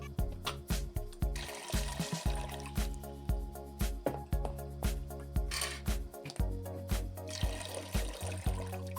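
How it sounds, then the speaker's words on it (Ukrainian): Water pours and splashes from jars into a pot in uneven bursts, with trickling and dripping between pours, fairly quiet and close, no voices. "зливаю з банок воду в каструлю"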